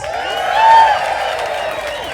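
A protest crowd at a No Kings rally in West Hollywood cheers and applauds, a broad wash of clapping and voices that swells briefly near the middle, with a shrill whistle-like cry riding on top.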